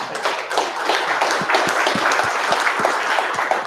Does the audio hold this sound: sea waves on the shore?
no